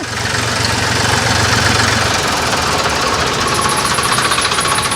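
The engine of a 1996 model tractor idles loudly and steadily with a dense, knocking chug that continues unbroken from start to finish at close range.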